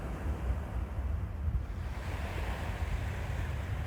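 Ocean waves washing onto a beach make a steady, full roar of surf with wind buffeting the microphone, continuous and fairly loud throughout with no voices.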